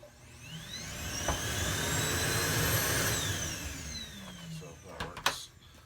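An Electrolux central vacuum unit runs with a loud, steady whining roar that swells and holds, then winds down with a few clunks at the end.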